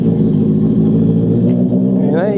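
A Honda CB650R motorcycle engine idles roughly and loudly up close after a cold start, a steady throbbing rumble that briefly revs up near the end.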